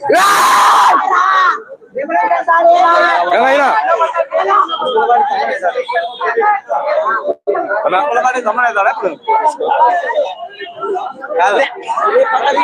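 Loud crowd of fans cheering and shouting together in the rain at a film trailer release celebration, excited yells and chanting overlapping continuously, close and energetic.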